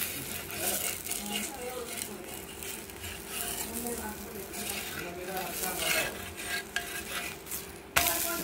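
Oil stirred and sizzling in a pan as batter for chigal thalipeeth is spread to fry, a steady close crackle with scraping and utensil clinks, ending in a sharp metallic tap.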